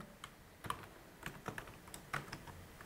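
Python code is typed on a computer keyboard at a Raspberry Pi, with a steady run of crisp, close key presses in uneven bursts against a quiet background.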